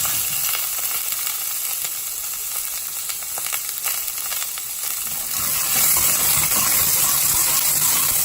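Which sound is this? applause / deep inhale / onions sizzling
onions sizzling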